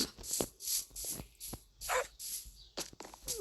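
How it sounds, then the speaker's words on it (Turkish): Repeated small-dog barks and yips from a dog in Minecraft come in quick, uneven bursts, fairly faint, with no talking. "Ay benim köpek de hav hav."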